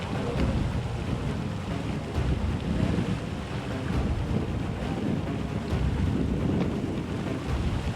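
Wind gusting across open water at a model sailboat regatta for DF65 radio-controlled yachts, a steady loud roar and buffeting against the microphone with faint water wash underneath, continuous from start to finish and with no voices.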